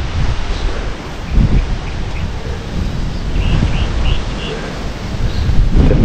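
Strong, gusty wind at an abandoned ranch estate in the Campanha region of Rio Grande do Sul buffets the microphone in deep, uneven rumbling surges that rise and fall throughout.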